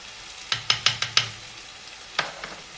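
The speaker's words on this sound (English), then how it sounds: "I do want to cook the oyster sauce a tiny bit, but not too much." Oyster sauce cooking in a pan over low heat, with a quick run of five sharp utensil scrapes and taps against the pan, then two more after a pause, over a faint sizzle.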